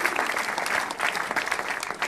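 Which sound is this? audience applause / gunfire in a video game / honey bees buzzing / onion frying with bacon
audience applause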